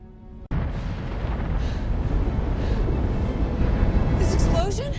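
A torpedo explosion: after a sudden sharp onset, a deep rumbling blast swells and rolls on for several seconds, with voices reacting over the roar.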